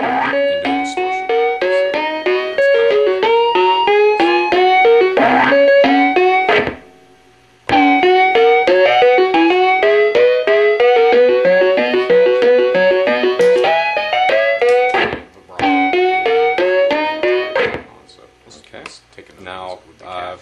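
Circuit-bent meatloaf played through a distortion effect gives a loud, buzzing electronic melody of stepped, overdriven tones, broken by two brief silences and thinning out near the end.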